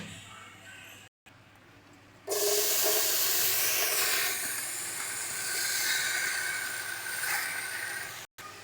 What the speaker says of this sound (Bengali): কড়াইয়ের মধ্যে শাপলাটা দিয়ে একটু কিছুক্ষণের জন্য এটাকে ভাপিয়ে নেব